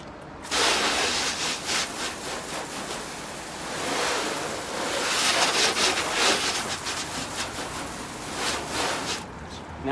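Water rinsing a cheap car wash mitt, a steady broadband splashing hiss that runs almost continuously for about nine seconds, close and fairly loud.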